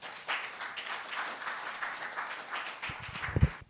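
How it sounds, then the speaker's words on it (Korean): An audience at a Korean defence industry forum gives a brief burst of applause to welcome a speaker, a dense clapping that fades out after a few seconds, with a thump at the end. "큰 박수로 모시겠습니다."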